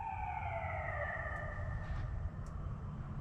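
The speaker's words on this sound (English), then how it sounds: "We heard some sirens" Distant fire truck and emergency sirens wail in long, slowly falling tones, layered over a steady low rumble outdoors on a dirt road.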